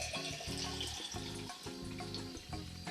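Water kefir is poured through a slotted spoon into bottles, giving a continuous close splashing trickle with slight bubbling irregularities throughout.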